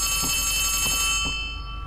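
A telephone rings in the video game Poppy Playtime Chapter 3, heard as a steady electronic ringing with a rapid pulsing rhythm that fades slightly at the end, loud and close, with no talk.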